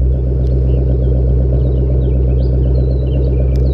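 A car's engine idles steadily just after start-up with white smoke showing, a loud, close, continuous low rumble with a pulsing rhythm and faint higher sounds above it, no one talking.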